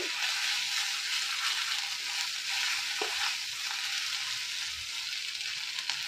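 Masala for a doi katla fish curry sizzles and fries in a pan, a steady broadband hiss with occasional stirring scrapes, close and continuous with no talking.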